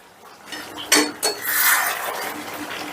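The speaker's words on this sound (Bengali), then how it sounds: "একটু বাদে ঢাকনাটা তুলে নিলাম।" A metal lid lifted off a cooking pot of chicken, two short clinks followed by a soft hiss of steam and sizzling, close and fairly quiet.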